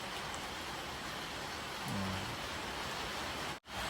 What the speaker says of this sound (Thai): ฝนก็ตกทั้งวันเลยครับจังหวัดตราดบ้านเรา